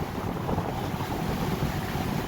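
Strong wind buffets the microphone in a loud, continuous rumble, gusting without pause.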